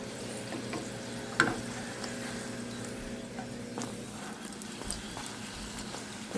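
Homemade flour tortillas frying for buñuelos, a steady soft sizzle of hot oil with a few light clicks and taps of a utensil, fairly quiet and continuous throughout.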